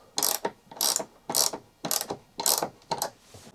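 A ratchet wrench tightens screws on a sailboat mainsheet mounting plate, six quick bursts of clicking ratchet strokes in a steady rhythm, close and clear with no talking.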